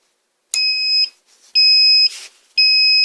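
Three loud, steady electronic beeps from a Power Max NPM4000H inverter running on battery power sound in a row, each about half a second long, with short quiet gaps and faint clicks between them.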